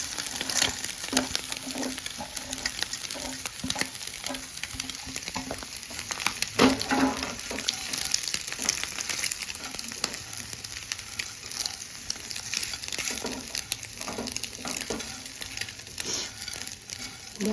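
Crumbled Maggi noodles and scrambled eggs fry in a pan with a steady close sizzle, punctuated by irregular scraping stirs, and no voices.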